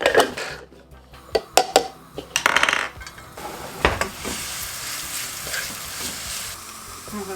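Garlic and onion frying in olive oil for a tomato sauce, a steady soft sizzle with scattered clinks of a utensil against the pan near the start, close and moderately quiet.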